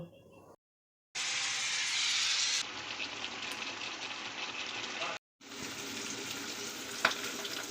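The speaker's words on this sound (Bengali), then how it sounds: "আর একটু চিংড়ি মাছ ভাজছি" Prawns sizzle and spit in a hot pan, a steady crackling hiss broken by two short pauses, with a faint clink near the end.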